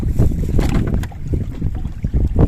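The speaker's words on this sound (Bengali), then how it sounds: "প্রচুর পরিমাণে বাতাস আজকে।" Strong wind sweeps across a river around a fishing boat under cloudy skies, buffeting the microphone in loud, uneven gusts with a low rumbling churn.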